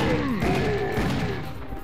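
Enemy gunfire in Serious Sam: The First Encounter crackles as a dense, continuous barrage of shots and impacts, loud and close, with a sweeping whine running through it.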